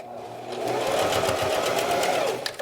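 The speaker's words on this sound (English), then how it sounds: "So again, you're going to sew down the outer edge again." A sewing machine stitches down the outer edge of a fabric face mask, a close, fast rhythmic whirring run lasting about two seconds before it slows and stops.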